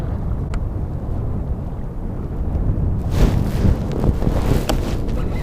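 Strong wind buffets the microphone on a kayak out on San Diego Bay, a continuous low roar with gusts swelling louder partway through and no talking.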